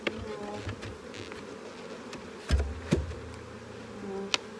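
Honeybees buzz in a steady, close drone throughout a hive inspection, with a few brief knocks and handling sounds from the frames.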